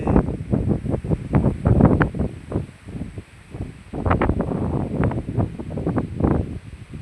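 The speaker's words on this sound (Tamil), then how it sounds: "காற்று வீசுது" Strong gusty wind on a hill around a temple buffeting a microphone, with loud irregular low roaring bursts that rise and fall over several seconds.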